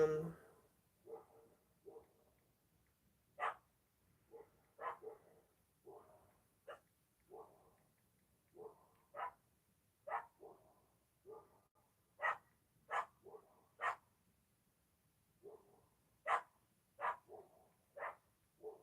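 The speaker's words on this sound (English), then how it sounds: "the barking chain is active right now" Dogs bark in a steady series of short, sharp yaps, sounding some distance away over a quiet background.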